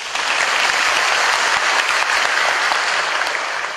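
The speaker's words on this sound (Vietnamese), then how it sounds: "Cho nên lâu lâu người mù sư nói vỗ tay lên đó chứ." Audience applause at a Buddhist dharma talk, a steady, dense round of clapping from many hands filling the hall, loud and close without a break, with no one speaking over it.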